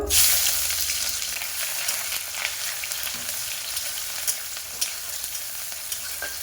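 Chopped onion drops into hot oil in a wok and fries with a bright crackling sizzle that flares loudly at first, then settles into a steady hiss broken by occasional taps of a stirring spoon.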